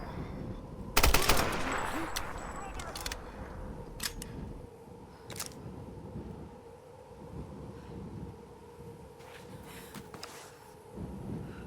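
Gunshots in a tomb-raiding video game ring out as a sharp burst of rapid shots near the start, followed by a few scattered single cracks over a low steady ambient hum.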